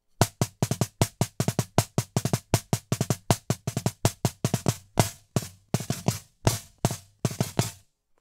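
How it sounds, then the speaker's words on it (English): A drum practice pad is struck with sticks in a fast single paradiddle variation with an extra left stroke, producing crisp, dry, evenly spaced taps in steady groups, close and alone, slowing slightly near the end. "variation number two, is when you're playing a single paradiddle again"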